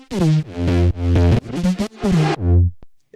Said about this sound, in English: It creates a sweep, almost sort of like a reversed reverb kind of feel.